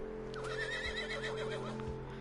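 A horse in Red Dead Redemption 2 gives one long, wavering whinny over a steady low game hum, with a couple of soft hoof clops underneath.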